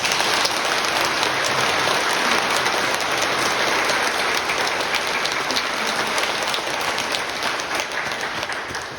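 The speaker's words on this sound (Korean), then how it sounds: "우리 다 같이 큰 축하의 박수를 먼저 드립니다." Congregation applauding in a Catholic church ahead of a baptism ceremony, a dense, steady wash of many hands clapping together that holds for the whole span and thins slightly toward the end.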